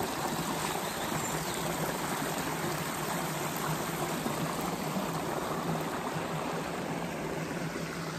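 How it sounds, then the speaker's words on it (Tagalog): Water pours down Kaytapos Falls in Indang, Cavite, giving a steady, broad rushing hiss that stays close and unchanging with no other sounds. "dito nga tayo sa may falls. Ayun, tubig."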